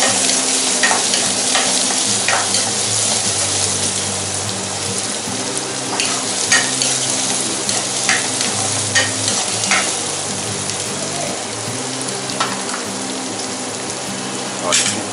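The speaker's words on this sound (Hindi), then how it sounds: "आलू प्याज को हल्का पका लेंगे" Onion and three small chopped potatoes fry in a pan for Hyderabadi biryani, a steady broadband sizzle with repeated scraping stirs and clinks of the spoon, close and fairly loud, no talk.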